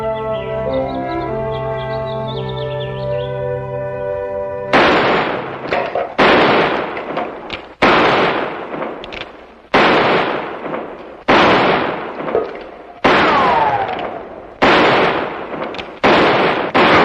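Gunshots ring out during shooting practice at a barn, a series of loud, sharp reports spaced about a second or two apart after a stretch of music, each one followed by a decaying echo.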